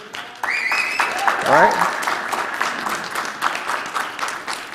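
Lecture audience breaks into sustained applause and cheering that swells and holds loud, with a voice speaking briefly at the start.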